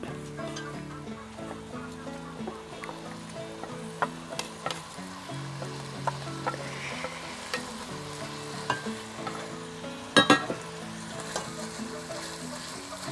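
Onions frying in a pan with crushed ginger and garlic for an egg roast, a soft continuous sizzle with scattered stirring clinks and scrapes of a spoon against the pan, close and fairly quiet.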